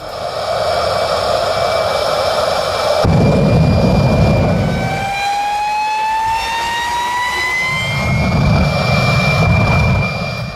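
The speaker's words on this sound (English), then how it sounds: "the sound of the modified Daihatsu Mirror is similar to that of an airplane" A jet engine fitted into a modified Daihatsu Mira car roars loudly and continuously, its high whine sweeping upward in pitch over a heavy rushing blast, like an airplane at close range.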